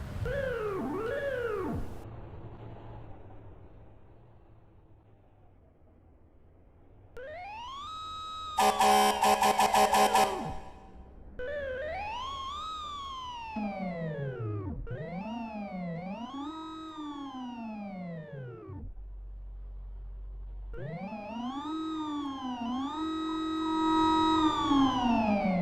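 A spare FDNY Seagrave fire truck in a video game sounds its siren in repeated rising and falling wails, with a low rumbler tone underneath and one short, harsh air-horn blast partway through. It is loud and close, with no talking.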